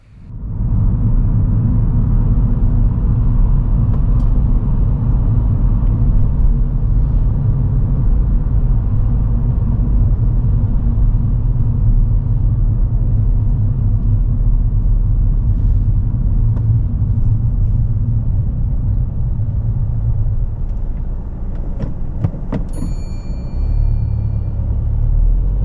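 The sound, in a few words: car driving on a dual carriageway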